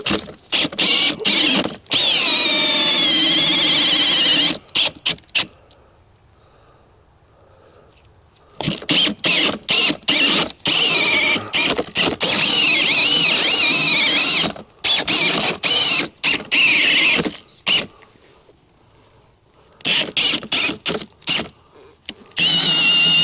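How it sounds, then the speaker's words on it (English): A power screwdriver bores through a layer into a basement on a patio project, loud whirring runs repeatedly starting and stopping, with short silent gaps between bursts. "Get my screwdriver."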